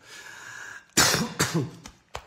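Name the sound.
cough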